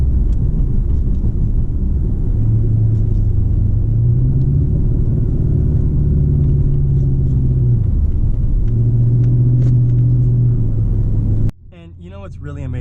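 Deep rumble of a 2013 Hyundai Genesis 5.0 R-Spec V8 heard from inside the car as it downshifts in manual mode, engine tone dipping and rising over a steady drone before a sudden shift near the end.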